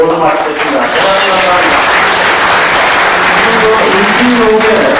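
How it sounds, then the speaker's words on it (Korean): Audience applause at a staff retirement and honorary retirement ceremony, a dense sustained clapping from a large indoor crowd filling the whole stretch, loud and continuous. "박수로 맞겠습니다"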